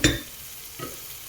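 Beef tripe sautéing in a pot, with a sharp scrape of stirring at the start and a second softer stir near the end over a faint, steady sizzle.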